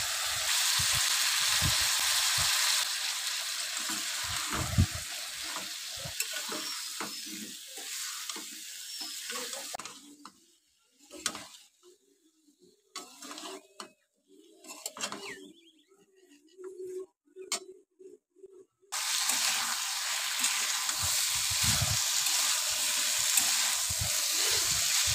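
Fish eggs with chopped vegetables fry and get stirred in a pan, with a loud, steady sizzle that drops away midway to sparse clinks and scrapes, then returns at full strength.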